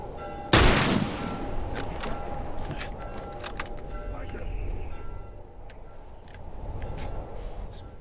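A loud, close rifle shot from The Last of Us game, then a scatter of sharper, more distant gunfire cracks over a steady rumbling backdrop.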